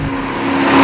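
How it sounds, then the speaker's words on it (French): A 2012 Maserati GranCabrio Sport's V8 engine and valved exhaust give a loud, steady, deep rumble that swells slightly over a brief moment, close and alone. "Le système d'échappement a une valve qui permet d'entendre beaucoup mieux le V8"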